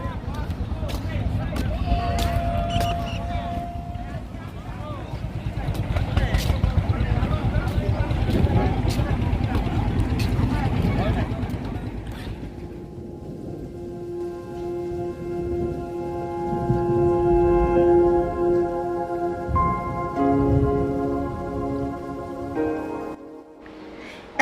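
A wooden tourist boat's engine drones on a river at Katka in the Sundarbans. Busy voices and babble sit over it at first, then a steady, tonal hum carries on more clearly.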